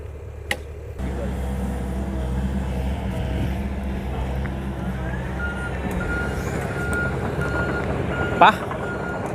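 A new Komatsu PC130-10M0 excavator, about 94 horsepower, idles with a steady low diesel drone while a high reversing alarm beeps in a repeating pattern, with a brief louder hiss near the end.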